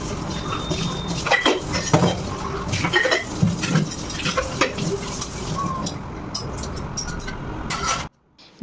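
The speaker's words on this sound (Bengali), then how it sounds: "আজকে শনিবার, তা বাসন টাসন ধোয়া, রান্নাঘরে স্ল্যাব ট্ল্যাব মোছা," Dishes and utensils are washed in a kitchen, with running water hissing under scattered clinks and clatters of metal and crockery, close and irregular, before stopping abruptly near the end.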